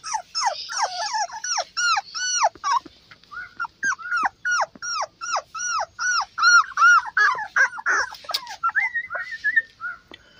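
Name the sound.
beagle puppies whimpering and playing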